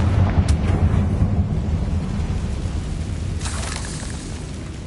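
A Confringo fire spell bursts in a Hogwarts video game, a loud booming explosion whose rumble fills the whole stretch, with a brief sharper crackle midway and a second flare near the end.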